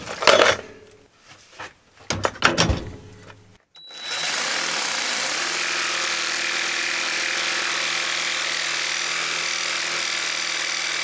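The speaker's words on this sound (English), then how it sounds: "I'm going to try my oscillating tool." Clattering and knocks of handling wood give way to an oscillating multi-tool starting up and cutting wood, a steady high buzzing whine that runs continuously and fairly loud for the rest of the stretch.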